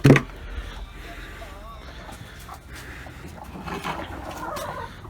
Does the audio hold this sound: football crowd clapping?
no